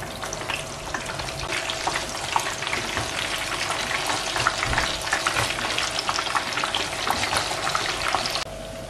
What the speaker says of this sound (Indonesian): Kita goreng di minyak yang sudah dipanaskan sebelumnya.